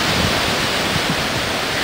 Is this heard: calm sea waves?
yes